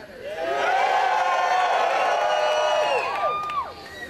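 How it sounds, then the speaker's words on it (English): A rally crowd at a marijuana march in Calgary cheers and whoops loudly for about three seconds, with a few high whistles near the end before the noise drops away. "Give yourself a cheer"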